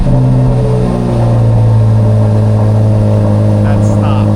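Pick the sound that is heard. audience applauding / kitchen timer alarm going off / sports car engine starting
sports car engine starting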